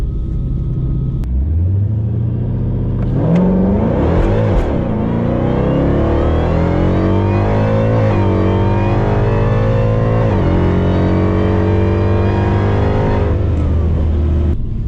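A Dodge Hellcat launches hard down a drag strip, its supercharged engine roaring loud and close with a steady rising rev, a brief stutter from tire spin early on, then sustained high-pitched acceleration for the whole run.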